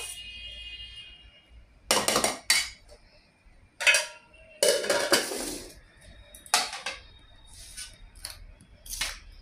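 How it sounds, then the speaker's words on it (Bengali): Rice being served onto a plate at a home lunch: bursts of scraping and clattering from a serving spoon against pot and plate, separated by quiet gaps, fairly close. "এই ভাত বাড়ছি"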